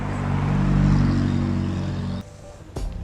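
A McLaren 570S sports car arriving, its engine a steady low drone that swells and then cuts away abruptly, followed by a short final burst of noise.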